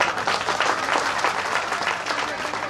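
Crowd applause at a BJP Parivartan Yatra political rally in Alwar city, a dense, steady wash of many hands clapping close and loud, with a voice faintly under it.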